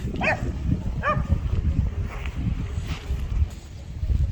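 Dogs let outside bark a couple of times early on, the short barks standing out over steady background noise before fading into a dull outdoor hum.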